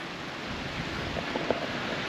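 The River Wenning flowing briskly after rain, heard as a steady broadband rush of moving water, fairly faint, with a few small splashy accents.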